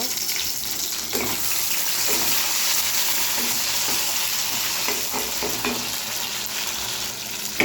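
Chopped tomato drops into hot masala in a frying pan, giving a continuous close sizzle with scattered scraping and clinking stirs throughout and no talk.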